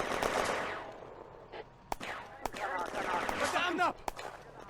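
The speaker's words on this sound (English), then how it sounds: "Small arms fire from the woods." In the Firefight game, small arms fire cracks from the woods as sharp separate shots over a few seconds. The shots come under and between voices shouting in German.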